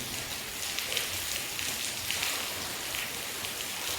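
Steady rainfall during a storm over farm fields with mustard crops, a dense, even hiss of drops that holds at the same level throughout with no voices.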